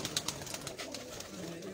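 Soft pigeon cooing close by on a rooftop loft, a brief murmuring call over low background noise.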